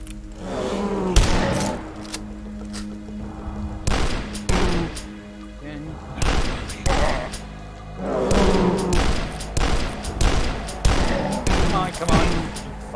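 Rapid pistol fire in the retro first-person shooter DUSK, boosted by a fast-fire totem: dense bursts of loud gunshots and thuds in repeated volleys across the whole stretch, with someone talking over the shooting.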